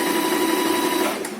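An Usha Janome Stitch Magic sewing machine stitching fabric, a steady continuous mechanical whir held at an even level, close and alone with no talk.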